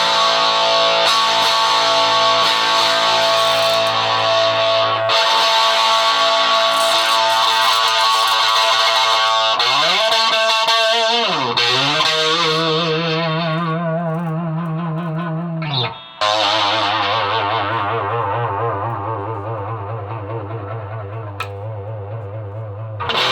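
An old guitar played through a repaired 1965 Ampeg G-12 amplifier sounds as sustained, buzzy chords and slides with a wavering, effect-laden tone. Brief breaks and a sharp pop come near the end, with no voice over it.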